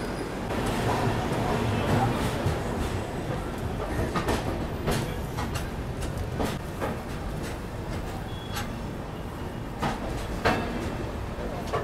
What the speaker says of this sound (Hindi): तो 10 मिनट की देरी से अपनी गंगा कावेरी एक्सप्रेस निकल चुकी है चेन्नई सेंट्रल से